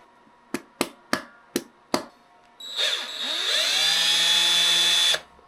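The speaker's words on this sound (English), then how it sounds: "I have to drill a little final hole" Five sharp knocks in a quick row, then a power drill whirs up and runs steadily for a few seconds drilling a small hole in a guitar, before stopping abruptly, close up.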